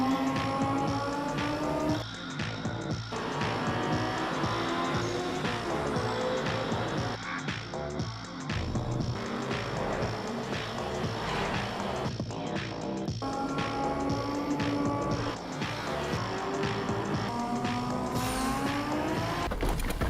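Car engine accelerating in a free Steam racing video game, a loud, sustained roar that holds steady for about twenty seconds with a few brief dips, over a dense continuous game mix.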